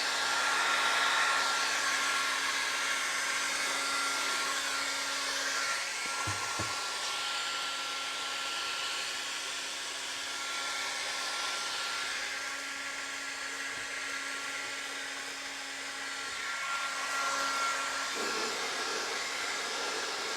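A heat gun blows a steady, loud whoosh while warming Ali Wrap LVT stair nosing, running continuously for about twenty seconds with slight dips in level and no talking.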